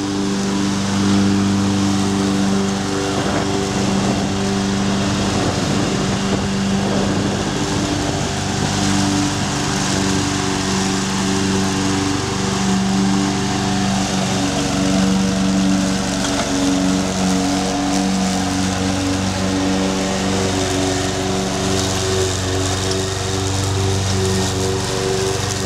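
A ride-on lawn tractor's engine drones loudly and steadily at close range as it drives across a lawn, with no pause throughout.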